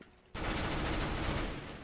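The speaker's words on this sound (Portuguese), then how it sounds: "Tô trocando muito tiro" Gunfire in Counter-Strike: Global Offensive bursts in after a brief quiet moment, then holds as a dense, sustained exchange of rapid shots that stays loud to the end.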